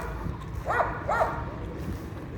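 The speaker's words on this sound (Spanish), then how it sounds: "Miren los perros, hay bastante perro" Two short barks from stray dogs sound at a moderate distance near a highway toll bridge in Quito, Ecuador, under a steady traffic rumble.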